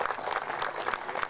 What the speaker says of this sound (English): So I'd like to give a round of applause for this great lot.